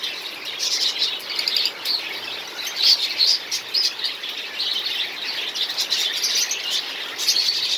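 Many caged birds twitter and chirp together over a constant hissing background of heavy rain and wind, with no voices.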